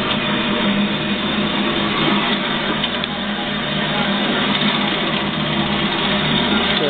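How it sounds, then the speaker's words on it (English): A VECTRAX 7x12 inch metal-cutting band saw, model 712G, runs with a steady, even mechanical whir and hum throughout, close by, with no pauses and no voices. "Got a VECTRAX 7" by 12" metal cutting bandsaw. Just to show you that it does operate."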